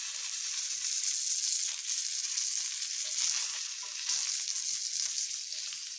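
Small fish, nethili anchovies and mathi sardines, deep-fry in hot oil with a loud, continuous close-up sizzle and crackle that stays steady throughout.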